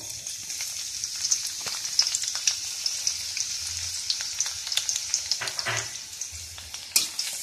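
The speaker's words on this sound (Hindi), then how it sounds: "अब मैं इसमें लहसुन डालूंगी।" Garlic sizzling in hot oil in a pan after cauliflower pieces for gobi manchurian have been fried and removed, a steady close frying hiss with scattered crackles and a few stirring clatters, no talk.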